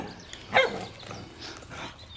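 A dog gives one sharp bark near the middle, followed by a couple of fainter yips or whimpers, moderately close in a quiet outdoor setting.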